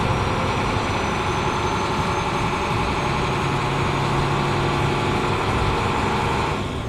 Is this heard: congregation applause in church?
no